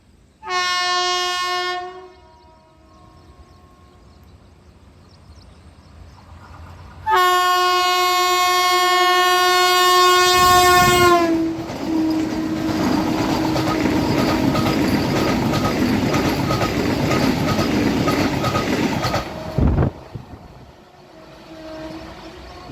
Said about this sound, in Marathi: खूपच जबरदस्त असा हॉर्न देत कोल्हापूर पुणे वंदे भारत एक्सप्रेस आता मार्केट यार्ड येथून गाडी पास झालेली आहे